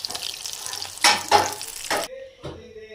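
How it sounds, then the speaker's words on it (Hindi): Chicken vegetable rolls frying in oil, a crackling sizzle with stirring and clattering bursts, ending abruptly to a quieter moment with a brief clink. "इसी तरह से हमने इसे फ्राई कर लेना है सबको।"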